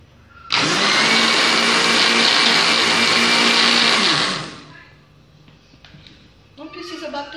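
A blender whips coffee with a spoonful of butter, giving a loud, steady whir for about four seconds before cutting off abruptly, followed by quieter kitchen sounds and a voice speaking near the end.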